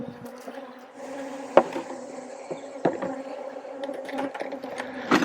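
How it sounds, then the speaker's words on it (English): Agitated, defensive honeybees from an opened hive colony buzz steadily and close, a dense droning hum with individual bees swelling louder as they pass, plus a few faint knocks. "So I apologize again for the bees. They are just very grumpy right now"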